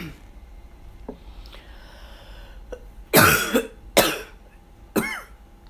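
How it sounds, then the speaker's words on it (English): Several harsh, wet coughs from one person clearing mucus from the chest and throat, three loud bursts in close succession after a few faint throat noises, with no talking. "I keep coughing up mucus."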